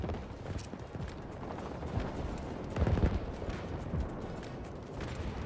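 An artillery barrage in a video game, heard as a steady roar of distant gunfire and muffled booming explosions. The blasts swell around the middle and are moderately faint, with no speech over them.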